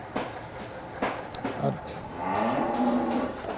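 A large cow and a calf low together at a dairy cattle sale, with a few short moos early on and then a longer, sustained deep mooing near the microphone.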